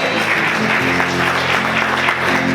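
A church congregation applauds in a dense, steady wash of clapping that fills the room at even loudness from start to finish.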